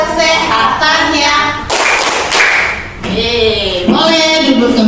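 Primary school class clapping rhythmically along to an organ gerak clapping chant, loud sharp claps in a steady pattern mixed with children and a teacher singing and chanting nearby.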